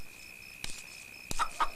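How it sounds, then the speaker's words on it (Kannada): A few short clucks from a country chicken sound near the end, moderately close, after two sharp knocks and a quiet stretch. "ಆ ಕಡೆ ಹೋಗ್ಬೇಡ, ನಾಟಿ ಕೋಳಿ ಐತೆ."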